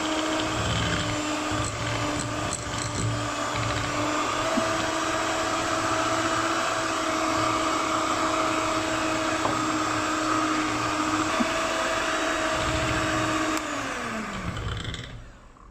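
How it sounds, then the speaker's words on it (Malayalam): An electric beater whirs steadily while beating butter and sugar for vanilla cake batter, a continuous motor whine with faint clicks against the bowl, winding down at the end. "ഇതിലേക്കിനി പഞ്ചസാര ചേർത്ത് നമുക്ക് ബീറ്റ് ചെയ്യാം."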